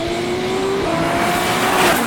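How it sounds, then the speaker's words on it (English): An Audi R18 race car at full throttle, its hybrid engine holding a loud, steady high-pitched roar that shifts pitch partway through as it runs close and constant, with no talking. "At full throttle, the R18 can hit 200 miles an hour."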